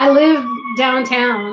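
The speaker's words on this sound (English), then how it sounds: "sorry for the sirens." A siren wails loudly with rising and falling tones while a person talks over it.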